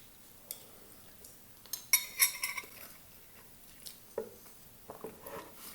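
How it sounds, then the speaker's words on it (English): Metal cutlery clinks against dishes during a meal of bison and rice, a few light scattered clicks and taps close by, with one brief cluster of sharper chimes, against a quiet room. "we're eating bison rice and cranberry juice"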